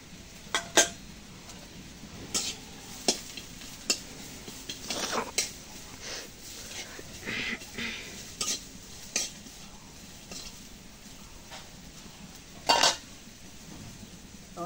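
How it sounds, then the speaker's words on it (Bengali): Chilies and onions fry in a hot wok while a metal spatula stirs and scrapes, producing repeated clinks and scrapes over a soft steady sizzle, close and moderately quiet, with no talking. "এখন দিয়ে দেবো মরিচ পেঁয়াজগুলো।"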